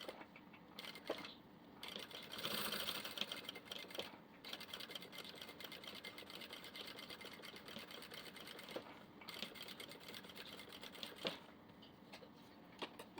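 A sewing machine runs steadily, stitching fabric with a fast, even mechanical whir and rapid needle clatter, close and continuous with a few brief pauses.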